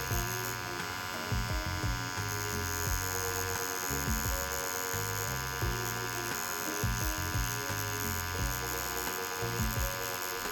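A tattoo machine needle filling in color on skin, a continuous close electric buzz with a steady pitch that wavers slightly as the needle works in small areas.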